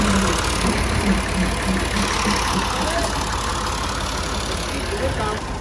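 A tractor engine idles with a steady, rumbling low throb at close range, running continuously beneath a man's speech.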